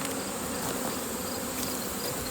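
Honeybees drone in a steady, dense buzz close to their hive, a one-gallon feeder nearby, the hum holding level and continuous throughout with no voices.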